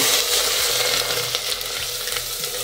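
Onions frying in a cup of hot ghee with fenugreek seeds and curry leaves for baingan bharta, a loud steady sizzle with faint stirring scrapes and no speech.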